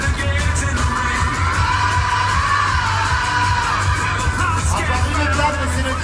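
A large audience at a Forever Living Products awards gathering applauds and cheers loudly for qualifying members. Dense clapping mixes with whoops and yells over a low, pulsing musical backing.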